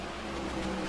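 A race car engine revs in the NASCAR The Game: Inside Line video game at Sonoma, a brief, faint, steady mid-pitched engine drone lasting under a second, with no talk over it.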